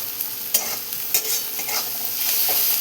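Boiled potato curry with turmeric and chopped coriander stirred in a hot pan, heard as a steady close sizzle broken by several sharp scraping strokes of the spoon, no voices.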